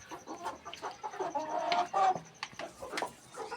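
Large backyard hens, each nearly 4 kg, clucking close by in a series of short, uneven clucks and throaty murmurs, fairly quiet with no talk.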